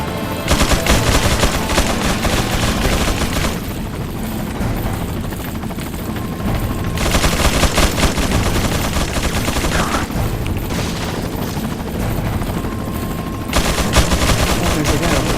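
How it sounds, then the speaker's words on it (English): Sustained gunfire in Resident Evil 4 on Professional mode, bursts of rapid automatic shots in loud waves with brief lulls between them, dense and close throughout. "Wait for him to finish the shooting."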